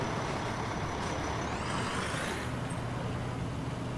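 A car in the EmergeNYC video game brakes for traffic cones amid steady traffic engine drone, a continuous rumble with a faint rising whine and a brief brake hiss, moderately quiet.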